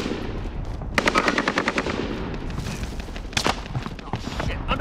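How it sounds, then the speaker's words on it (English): Automatic gunfire in Call of Duty Warzone on the Caldera map: a rapid machine-gun burst of evenly spaced cracks, then scattered nearer shots and a loud single blast, with faint background game noise. "Oh shit, under fire!"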